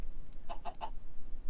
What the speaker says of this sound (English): A chicken lay an egg.